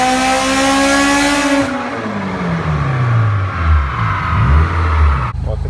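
A Honda S2000 with a Rotrex supercharger revs hard, its engine note climbing high and loud before dropping off and falling back to a lower, rougher burble with small blips.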